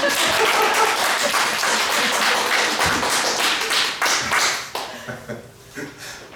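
A church congregation at a Sunday evening service claps together, loud and fairly rhythmic with distinct hand strikes, then breaks into scattered individual claps and taps that trail off.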